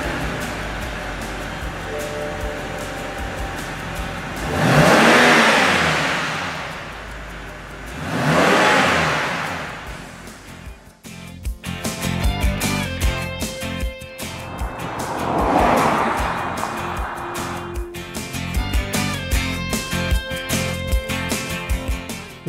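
A 2011 BMW 328i convertible's 3-liter inline-six is revved hard several times, each rise swelling loud and then falling away, with shorter blips and idle between the runs and no voices.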